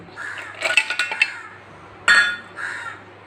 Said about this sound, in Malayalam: കുറച്ച് ഐസ്